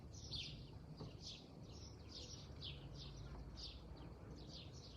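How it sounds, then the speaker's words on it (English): Faint birds chirp repeatedly in short, evenly spaced calls over a steady low background hum at an outdoor spot in Amorgos, Greece. "the birds chirping"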